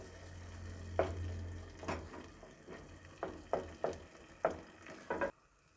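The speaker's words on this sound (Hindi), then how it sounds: "और इसको मैं अब फ्राई कर लूँगी।" Goat brain (maghaz) frying in a pan on a low flame, a soft steady sizzle broken by repeated scraping and mashing strokes of a spoon, close and unaccompanied by speech.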